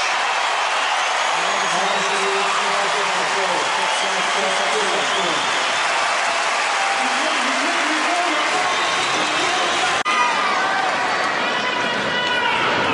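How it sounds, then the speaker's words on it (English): A packed tennis crowd at the 2006 US Open roars and applauds through a changeover in a match between Agassi and Baghdatis, a loud, continuous wash of cheering with voices rising within it. "This crowd roaring during the entire changeover."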